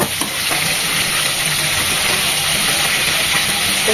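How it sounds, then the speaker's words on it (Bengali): Chicken pieces fry in a pan until lightly browned for a roast, giving a steady, close, continuous sizzle with no speech. "হালকা ব্রাউন করে ভেজে নেব।"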